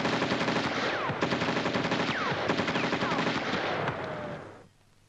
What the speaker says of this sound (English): I'll shoot him out from this end.